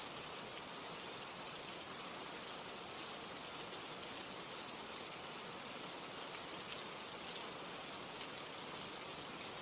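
Steady, soft rain falls evenly with a constant fine hiss and no pauses, faint and unbroken.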